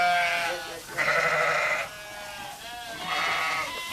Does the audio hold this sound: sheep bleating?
yes